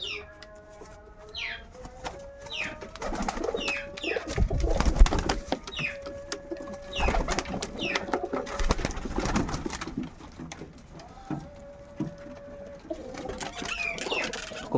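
Kaldom pigeons coo repeatedly and close by, with wing flaps and bursts of fluttering among the calls, alone without speech.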